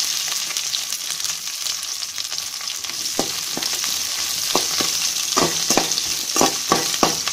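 Mustard seeds, chana dal, urad dal, two dried red chillies, shallots and curry leaves frying in hot oil as a tempering for green gram and drumstick sambar: a steady close sizzle with sharp crackles and spoon clicks growing more frequent.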